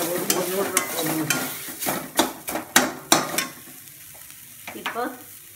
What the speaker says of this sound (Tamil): இப்போ வதங்கிட்டு பண்ணுறேன்.